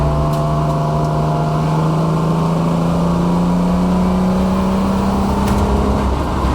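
A race car engine runs steadily on track after clearing a spluttering fault, a loud continuous drone with pitch rising slowly as it pulls through a turn, no voices.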